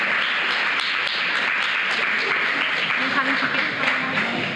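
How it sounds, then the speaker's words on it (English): Steady, dense applause from a large crowd at a film prize ceremony continues throughout, with a voice speaking over it. "A big round of applause,"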